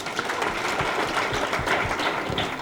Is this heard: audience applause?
yes